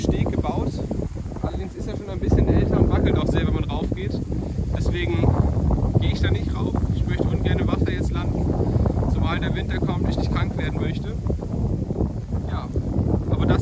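Wind gusts and rustles steadily across an open countryside plot in rural Russia near an old wooden jetty, buffeting the microphone, while a person talks over it.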